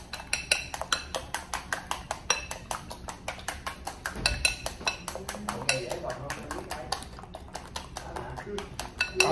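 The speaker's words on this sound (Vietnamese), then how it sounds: "bây giờ mình nêm nếm đầy đủ nước mắm rồi à. Đánh lên nha các bạn." Eggs seasoned with fish sauce are beaten briskly in a bowl with a utensil, giving a fast, steady run of clinking taps against the bowl while a person talks over it.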